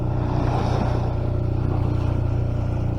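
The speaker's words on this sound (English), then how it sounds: "fire up the engine and" A sailboat's inboard engine motoring while leaving Palma marina on Majorca, a steady low drone with a constant hum and water wash running evenly throughout, with no speech.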